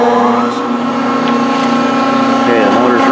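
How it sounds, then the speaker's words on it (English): Electric motor driving a CNC Sawjet Echion/DynaMAX 350 waterjet intensifier, humming with a steady tonal drone and constant loudness throughout, close and continuous with no breaks. "Okay, the motor's running."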